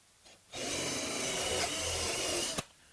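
A drill bores into wood during assembly of an Adirondack chair, a brief close burst of around two seconds that starts sharply and stops with a small click, quiet before and after.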